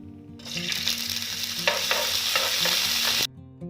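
A tablespoon of urad dal drops into hot oil for tamarind rice and fries in a steady, dense, hissing sizzle with occasional stirring scrapes, over faint background music, stopping abruptly.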